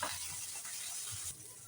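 Tomatoes drop into onions frying in a pan, giving a soft steady sizzle with faint stirring, fairly quiet and close.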